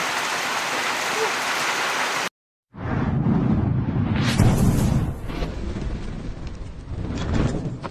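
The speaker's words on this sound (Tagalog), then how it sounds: "inabot na tayo ng ulan" Steady rain hisses on a surface, with a brief dropout and then a continuing heavy downpour that varies in intensity.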